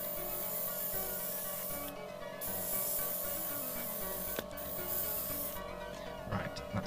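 An airbrush sprays paint onto a Gundam model kit, the HGUC Geara Zulu, with a compressor running, giving a close, steady hiss that continues throughout with a few brief breaks.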